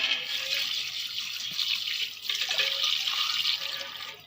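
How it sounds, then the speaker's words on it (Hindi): Water pours steadily into a large pot of mutton korma, about four kilos of meat, a loud continuous splashing gush heard close with no talking. "अब हम पानी डालेंगे इसमें।"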